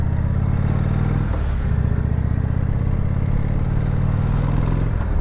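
A motorcycle engine runs steadily nearby with a continuous low rumble, briefly dipping in pitch partway through as if shifting or easing off. Nobody speaks.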